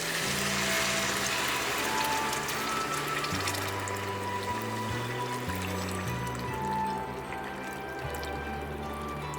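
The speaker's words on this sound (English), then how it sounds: "In goes water." Water pours steadily into a hot pot soup base of fried garlic, ginger and chilies, a continuous close splash and gurgle whose pitch shifts as the pot fills, lasting about nine seconds.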